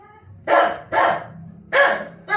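A stray dog barks four times in sharp, evenly spaced bursts, close and loud, with a low growly undertone between barks.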